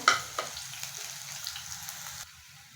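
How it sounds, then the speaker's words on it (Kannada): Onion and green chilli fry with mustard seeds in a pan, a quiet, close sizzle with a sharp crackle at the start and small pops before the sound drops lower near the end. "ಸಾಸಿವೆ ಹಾಕೊಳ್ಳೋಣ ನೋಡಿ ಇದಕ್ಕೇ ನಾನು ಈರುಳ್ಳಿ ಮೆಣಸಿಕಾಯಿ ಚೆನ್ನಾಗಿ ಫ್ರೈ ಆಗಲಿ ಸ್ವಲ್ಪ"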